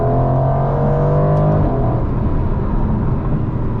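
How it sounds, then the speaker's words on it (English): 2021 Aston Martin Vantage Roadster engine note as paddle downshifts in manual mode: loud sustained roar with a steady tone that drops away midway into a rougher, rumbling growl, heard close from inside. "I'm gonna just pull on the paddle, and that's gonna take me into manual mode. And these downshifts are quick."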